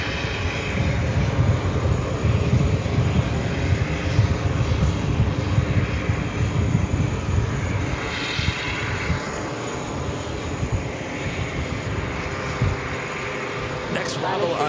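An Airbus A320 airliner throttling up for takeoff at JFK airport, a loud steady engine roar that swells and holds throughout, with a voice talking over it.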